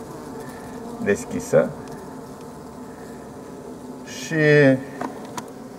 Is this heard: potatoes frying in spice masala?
no